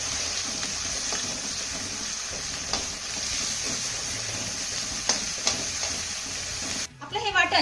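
Spinach curry masala paste with curry leaves being stirred in a hot pan, a steady loud sizzle with occasional scrapes and taps of the spoon, ending in a short burst of clattering.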